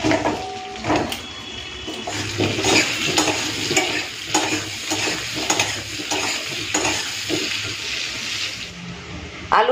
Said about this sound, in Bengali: চলুন প্রথমে এই আলুগুলোকে ওই একই তেলের মধ্যে ভেজে নেব।